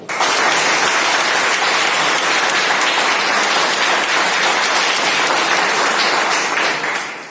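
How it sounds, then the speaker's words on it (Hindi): Loud, sustained applause from the audience at a health awareness program, many hands clapping in a thick, even roar that holds for several seconds before tapering off. "मैं चाहूंगा एक शानदार तालियां बजाइए"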